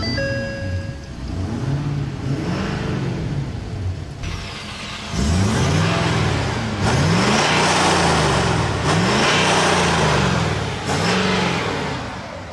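A 2015 Ford F-250 Super Duty truck with the 6.7 Power Stroke diesel engine is revved several times in a row. Each rev swells and falls away, loud and close, with a brief idle between, and no speech.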